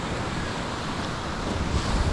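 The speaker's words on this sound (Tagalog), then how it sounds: "Hangin naman ang problema, yung amihan, sobra ang amihan season guys." Strong amihan-season wind blows at the coast, roaring steadily and buffeting the microphone over a wash of surf, with no voices for about two seconds.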